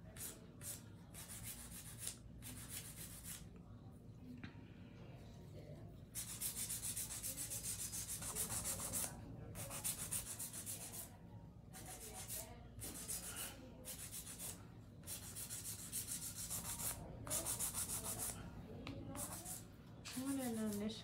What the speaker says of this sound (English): I have to drill everything back down and even everything up again.